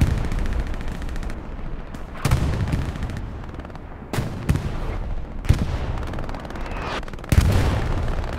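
Artillery fire during a Hell Let Loose match on Omaha Beach: a run of loud booming blasts at irregular intervals with rumbling battle noise between them and no speech.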